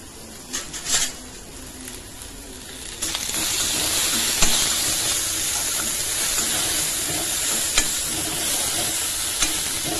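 Crushed ginger and garlic sauté lightly for an egg masala. After a few clinks comes a sudden, steady, close sizzle that keeps going, with occasional sharp ticks and pops.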